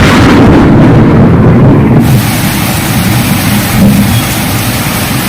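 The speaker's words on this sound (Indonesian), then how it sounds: "Hujan, guys." Heavy rain pouring down outdoors in a loud, dense, continuous hiss, with a low rumble beneath it.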